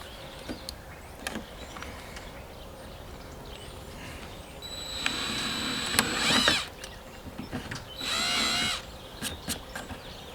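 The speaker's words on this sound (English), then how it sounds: "This is going to be a test hole for the rib nut." A power drill whines through plastic while boring a test hole for a rivet nut, running in two sustained bursts with a pause between them, close and clear, surrounded by light handling knocks.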